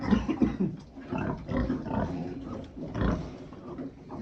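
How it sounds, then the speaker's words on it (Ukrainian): Piglets grunt and suckle at sows in a farrowing pen, a close run of soft, rhythmic grunts and snuffling smacks repeating in bursts with no talk. "И эти манюки тоже чмокали, едят."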